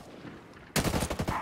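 Gunfire in the video game Ghost Recon Breakpoint: after a quiet stretch of low game ambience, a sudden loud burst of rapid automatic shots crackles close up for about half a second.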